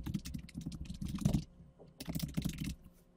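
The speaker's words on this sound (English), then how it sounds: "so all I need to do is write my email" An email address typed on a computer keyboard at a sign-in page, rapid close keystroke bursts in two runs separated by a short pause.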